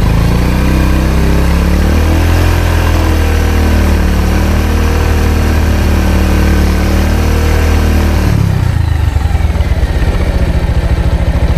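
A high-mileage Bajaj Pulsar 150 motorcycle engine is held at high revs for about eight seconds, with a steady, loud buzzing exhaust note close by. It then drops abruptly back to a lumpy idle.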